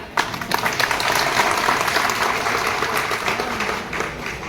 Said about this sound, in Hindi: तालियां जोर से बजनी चाहिए यार